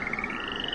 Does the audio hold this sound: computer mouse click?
no